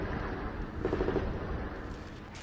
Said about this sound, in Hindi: दोनों तरफ से विध्वंसक गोलाबारी की आवाजें सुनाई दे रही हैं।